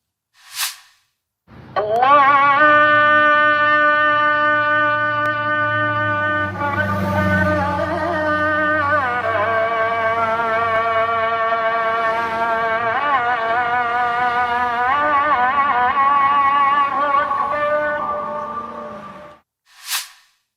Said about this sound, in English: the Muslim call to prayer at 5:30 in the morning